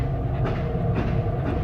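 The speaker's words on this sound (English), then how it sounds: "The only thing I could hear was the sound of a train" A train rolls close by with a heavy low rumble and faint rhythmic clatter of wheels on track, loud and constant for a brief moment.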